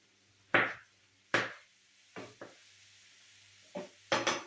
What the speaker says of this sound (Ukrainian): Перчик я нарізаю соломкою